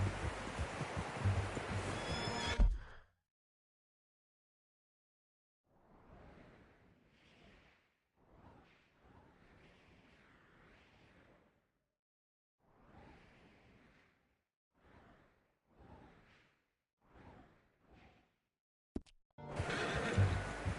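A horse in a video game whinnies and snorts in a run of short, separate bursts spread over several seconds, with quiet gaps between them and no talking.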